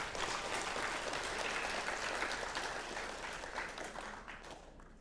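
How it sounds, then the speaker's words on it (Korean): Audience applause at a workshop opening ceremony in Bucheon as appointment certificates are handed out, a dense steady clapping that holds for several seconds and then slowly thins and fades. "박수 크게 좀 해주십시오."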